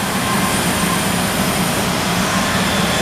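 A Kiwa KH 4500 machining center in great condition, rated to 15,000 RPM, runs its spindle with a steady, loud whirring roar that holds an even level throughout.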